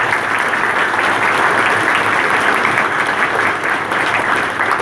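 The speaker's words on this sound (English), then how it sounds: "give a round of applause." A conference audience at a flight simulation convention applauds a prize winner, with steady, dense clapping that is loud and continuous throughout.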